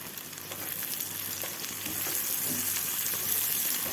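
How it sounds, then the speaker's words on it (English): Capsicum sautéing with other vegetables in a pan for chilli-garlic noodles, giving a steady broadband sizzle and hiss that swells slightly toward the end, close and continuous with faint stirring. "And now adding in the capsicum, 1 cup of capsicum. And sauteing it together with the other veggies."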